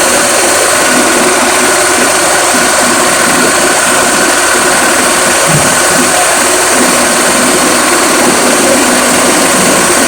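A CNG-converted car engine runs at raised speed, a loud, unbroken, close-up roar that holds steady throughout, with no talk.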